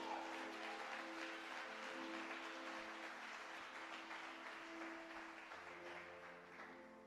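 Applause from a congregation in a Brazilian evangelical church service, a broad wash of clapping over a sustained low tone, slowly fading toward the end.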